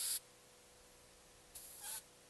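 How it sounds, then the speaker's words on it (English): Compressed air from an airline hisses into a resin transfer mold in short bursts: a brief blast, a pause, then two more hissy puffs close by, with no talking. "Now we're just giving it a shot of air in there."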